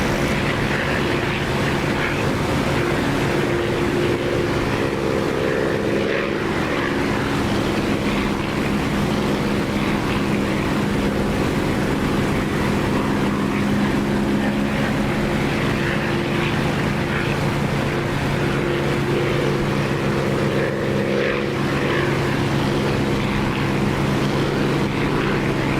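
Propeller aircraft engine idling while taxiing along a narrow taxiway in the flight simulator DCS, a steady droning hum with a low tonal throb, continuous and loud, alone without voices.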